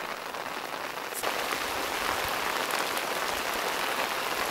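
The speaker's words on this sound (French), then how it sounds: "Ce coup-là, ça pleut." Steady rain pouring down outdoors on a wet pilgrimage walk toward Compostela, a dense, even hiss that fills the whole clip, with a brief sharper splash near the start.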